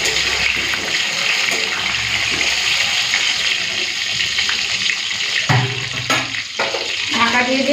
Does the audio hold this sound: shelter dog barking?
no